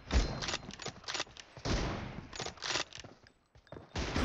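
Gunfire in a BGMI team deathmatch, sharp separate shots and short bursts at an uneven rhythm, moderately loud with brief gaps between them.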